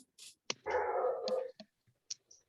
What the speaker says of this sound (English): No, I hear a dog.